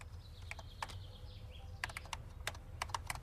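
Typewriter keys struck in two quick bursts of sharp clacks, several strokes each, fairly close and clear over a low steady room hum, with no voices.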